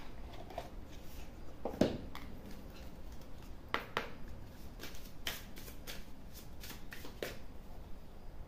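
Witch's seasons oracle cards are shuffled by hand in a series of soft riffling bursts and light slaps, close and quiet, with short gaps between them and no talking.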